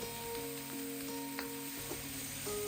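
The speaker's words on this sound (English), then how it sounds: "add the ground pork and let it cook for a couple of minutes until it starts to turn brown" Ground pork frying in a hot pan for mapo tofu, a steady close sizzle with faint crackles and a soft scrape or two, no voices.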